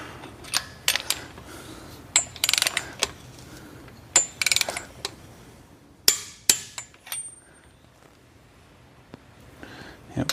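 Wheel lug nuts on a Ford Raptor being tightened in a star pattern to 150 foot-pounds, heard as sharp, irregular metallic clicks and clanks spaced across the stretch, close and fairly loud over a quiet background.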